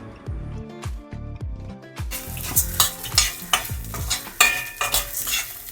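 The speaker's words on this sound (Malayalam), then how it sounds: "നന്നായിട്ടൊന്ന് മിക്സ് ചെയ്യാം." Spices such as turmeric and asafoetida are stirred into a sizzling pan for lemon rice, with a steady run of close, rhythmic scraping strokes over continuous frying hiss.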